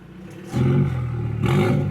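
A BMW exhaust in its loud valve mode revs hard twice, a deep, loud roaring growl that swells, holds, then surges again, close by with no talking.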